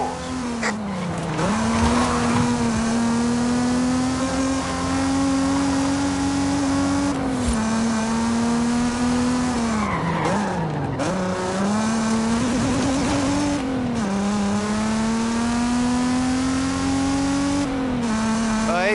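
Mazda Miata in Forza Horizon 5 driving through dark woods at the base of a volcano: a steady, loud engine drone that holds its pitch with a few dips and rises as the revs shift, with faint tire noise and no talk throughout.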